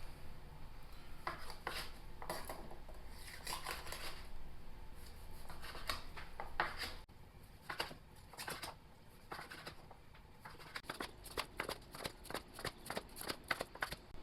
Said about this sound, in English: Our steak has rested, and now we're going to slice it and put it on the plate.